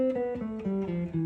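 A guitar plays a scale downward, single plucked notes stepping lower one after another at an even pace, clear and close with no talking.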